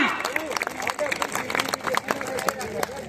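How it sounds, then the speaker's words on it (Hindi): A large seated crowd at a religious gathering bursts into loud, sustained clapping, sharp claps spiking through a steady background of voices and murmuring. "एक बार जोरदार तालियां।"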